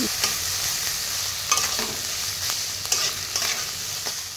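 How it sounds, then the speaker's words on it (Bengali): Ginger paste fries with turmeric powder and grated coconut in a pan, a loud steady sizzle broken by regular scraping stirs of a spatula, with no voices. "এবার আদা বাটাটাকে একটু ভালো করে নেড়ে চেড়ে কষিয়ে দিয়ে দেব হলুদ গুঁড়ো, দিয়ে দেব নারকেল কোড়া।"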